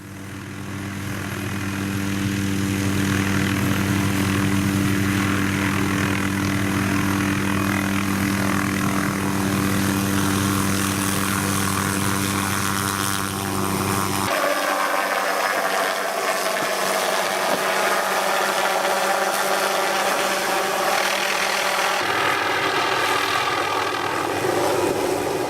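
An MD 500 helicopter carries a suspended tree-trimming saw, giving a loud, steady rotor and engine drone with a layered mechanical whir. The tone shifts abruptly partway through as the saw and rotor pitch change.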